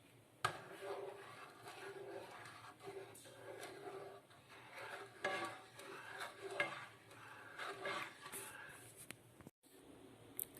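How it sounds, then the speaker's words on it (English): A spoon stirs sugar into tea for kombucha, giving a steady run of soft scraping swirls with light clinks against the vessel, close and fairly quiet, with no voices. "Now I'm just gonna stir this."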